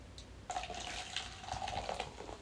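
A can of White Claw hard seltzer being poured into a glass, a steady close liquid stream with fizzing that begins abruptly and runs for about two seconds.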